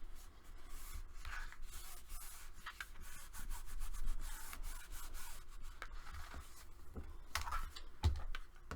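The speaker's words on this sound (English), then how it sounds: "Go ahead and burnish it on the other side." Paper is burnished against chipboard by hand, giving a continuous close scratchy rubbing with uneven strokes and a few small taps, no talking.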